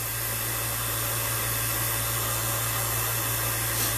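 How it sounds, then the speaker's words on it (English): A vacuum pump evacuates the refrigerant lines of a mini split air conditioner, giving a steady, unbroken mechanical hum with a constant low drone. "there really is no problem with doing a fast vacuum with the mini split"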